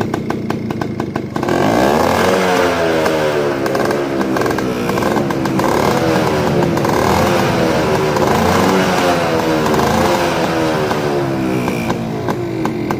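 A 1995 Yamaha Alfa motorcycle engine runs steadily and loudly, revving up and down in repeated waves after a brief idle start.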